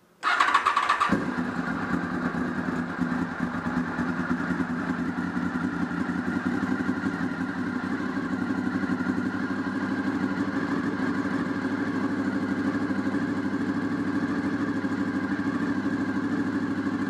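A 2000 Honda VFR800Fi motorcycle engine cranks briefly, catches and then settles into a steady, even idle that runs on unchanged at close range.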